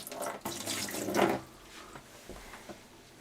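Water drains from the condensate trap of a Worcester Bosch 38 CDi boiler, with a strong splashing pour for about a second and a half that fades to a faint trickle.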